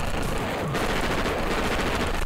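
Rapid bursts of gunfire in the video game Pico's School, a dense, loud, continuous rattle of shots lasting a couple of seconds.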